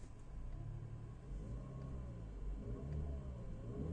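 A Volkswagen Golf 5 engine runs steadily with a low rumble, its pitch rising and falling gently as it is revved, heard from inside the car.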